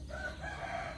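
A fighting rooster crows in a sustained, moderately faint call that fills the whole moment, heard alone without talking.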